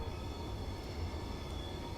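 Steady low rumble and rolling wheel noise of a Class 444 electric multiple unit running in Train Simulator 2017 on a South Western route, continuous and even with no talking.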